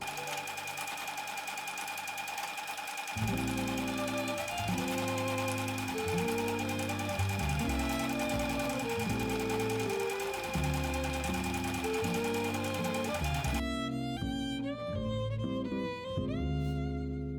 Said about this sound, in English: Pin and sew your quilting pattern.